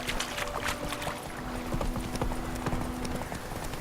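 Horse hooves clip-clop at a steady walking pace on a path in The Witcher 3: The Wild Hunt, fairly close and distinct with light ambient background and a faint tonal hum.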